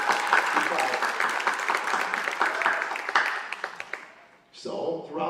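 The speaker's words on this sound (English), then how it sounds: "give me another round of applause for them" A crowd applauds at a high school commencement ceremony at Niles Central, a steady, loud round of clapping for about four seconds that fades out before a voice speaks over the room.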